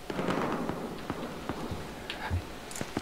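Gunfire in the Battlefield Hardline video game during a team deathmatch, a scatter of sharp cracks and pops at uneven intervals, some close and loud, others more distant.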